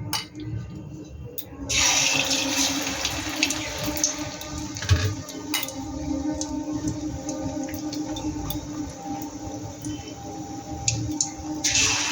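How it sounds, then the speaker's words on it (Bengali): Spicy cauliflower pakoras sizzle in hot frying oil, a steady crackling hiss with small pops and bubbling that swells after a quiet start and carries on close and unbroken. "এই বাকিগুলো আমি একইভাবে ভেজে নেব।"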